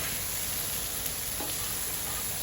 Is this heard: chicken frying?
yes